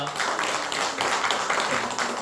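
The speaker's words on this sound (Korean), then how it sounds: "환영하는 마음으로 박수하겠습니다" A church congregation at a Korean Methodist Sunday morning service applauds to welcome a newly registered member, a brief continuous wash of clapping from the pews.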